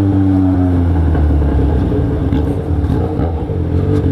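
A Yamaha XJ6 motorcycle engine with an Atalla 4-into-1 aftermarket exhaust rumbles loudly up close, revving and popping through the throaty exhaust, with no voices.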